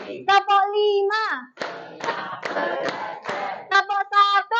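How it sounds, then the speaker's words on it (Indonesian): Children play a counting clap game in a classroom, their high chanting voices trading off with bursts of sharp, rapid hand claps in the middle stretch. "tepuk satu, tepuk dua, tepuk tiga, tepuk empat, tepuk lima"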